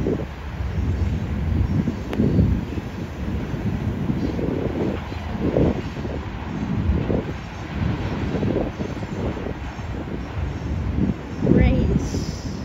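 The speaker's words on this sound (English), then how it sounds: "it's a mixed train" Mixed freight train led by NS locomotives rumbles past a trackside spot in Lombard, Illinois, a continuous heavy roar with rhythmic wheel clatter and buffeting wind noise, with people talking nearby.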